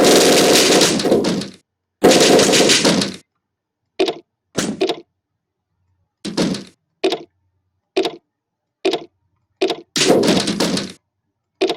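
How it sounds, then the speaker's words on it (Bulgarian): Door sounds from a browser game play as abrupt bursts, two longer noisy opening sounds followed by a rapid series of short knocks and thunks separated by silence, then another longer burst. "Последно отваряме вратата и тя се отваря."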